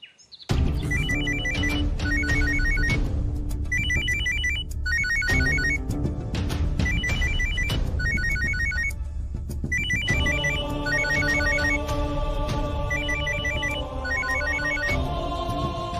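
A telephone rings steadily in a Tamil TV serial scene, a loud repeating electronic ring pattern in regular bursts layered over dramatic background music, with no talking.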